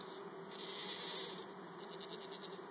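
Honeybees buzz steadily during a hive installation at Polecat Pines, a close, continuous droning hum that swells slightly midway and carries on without any voices.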